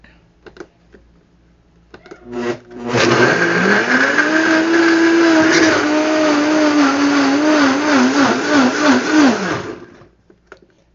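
A blender blitzes vegan saag ingredients, including nuts, in a loud, steady whirring run of about seven seconds, with a few short knocks and clicks before and after.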